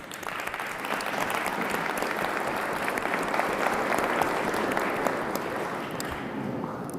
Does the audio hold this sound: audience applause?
yes